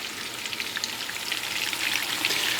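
Homemade meatballs for Italian sauce fry in a pan with a busy, close crackle of spitting fat and tiny pops, growing slightly louder toward the end.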